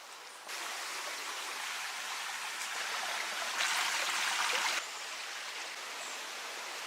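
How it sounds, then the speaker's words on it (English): A forest stream in Chile rushes in a constant broadband hiss, growing louder for a moment midway, with no voices. "I love sounds of the forest, from the birds, the streams"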